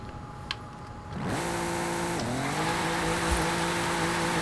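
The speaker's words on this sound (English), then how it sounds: "we do burn out there" A 1982 Volkswagen pickup revving hard into a tire-spinning burnout, engine note rising sharply then holding a loud strained drone close by, with a brief dip and recovery midway.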